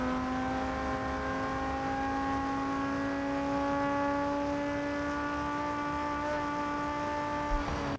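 An old supercar engine drones steadily in a racing video game, holding a smooth, high, tonal whine at near-constant revs and sounding close and continuous throughout.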